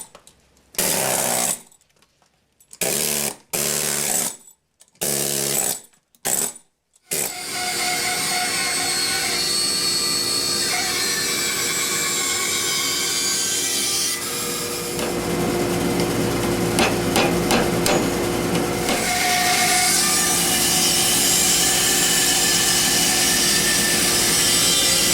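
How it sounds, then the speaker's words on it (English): A chainsaw cuts a rescued piece of Maui milo wood, opening with several short bursts separated by silence, then a long continuous loud cutting drone with shifting pitch as the blade works through. "next step, we cut it on the chainsaw"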